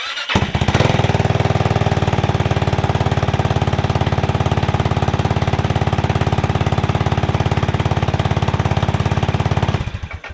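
A GY6 scooter engine powered by an added second battery cranks and runs, a loud, steady rapid mechanical chugging held for about ten seconds before cutting off abruptly, no voices.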